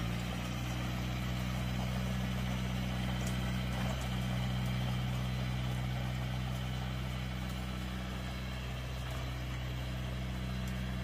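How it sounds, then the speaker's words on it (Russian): A mini tractor fitted with a rotary tiller runs continuously at a steady, throbbing engine note, fairly close and uninterrupted, with no voices. "Красивий міні-трактор з фрезою."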